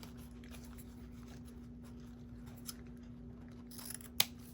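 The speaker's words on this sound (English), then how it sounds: "sometimes I cut my ribbons at a diagonal and sometimes I cut them like a V" A single sharp scissors snip trimming a craft ribbon end, close and crisp, with a few faint rustles of fabric just before it in an otherwise quiet room.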